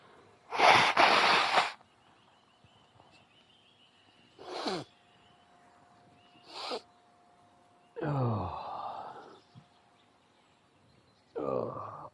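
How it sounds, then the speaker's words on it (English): Several loud, wet nose blows in separate bursts spread across the clip, harsh and close, with quiet pauses and a faint steady hum in between. "Hold on, I gotta blow my nose."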